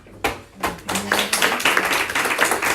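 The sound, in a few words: audience clapping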